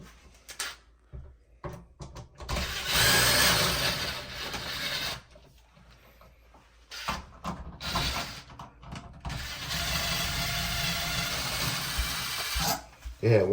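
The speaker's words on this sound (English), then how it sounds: "you can take a screwdriver or screw gun, take out the screws" A screw gun whirs in two sustained bursts, backing screws out of a laundry room receptacle, with quieter handling between and a short clunk at the end.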